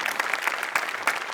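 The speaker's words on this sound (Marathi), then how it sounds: "तुझ्या तल्लख मेंदूसाठी आज टाळ्या." A studio audience at a Marathi comedy show claps in a quick, even rhythm, filling the short moment with steady applause.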